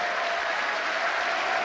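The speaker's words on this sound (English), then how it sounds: "Taking the applause rather impassively" Applause for Edward Heath at the Oxford Union, a dense, sustained clapping from a large audience filling the hall, steady and loud throughout.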